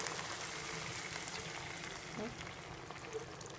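Shrimp simmering in sauce in a pan after a splash of water is added, giving a steady, soft bubbling sizzle that continues evenly throughout with no talking.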